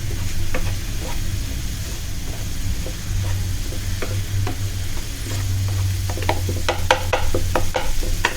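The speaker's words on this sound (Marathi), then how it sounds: "मसाला तर छान त्याच्यामध्ये मिक्स होईपर्यंत परतत राहायचं आहे आपल्याला." Clams cooking with masala in a pan for a Malvani clam dish, giving a steady close sizzle with scraping stir strokes throughout and a quick run of sharper clicks near the end.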